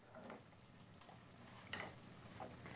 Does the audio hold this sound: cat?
no